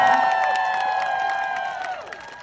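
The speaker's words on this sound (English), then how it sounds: "That's a cheer moment." A protest crowd in the UK, rallying against benefit cuts for disabled people, cheers and claps loudly, with sustained whistle-like tones over scattered claps that gradually fade.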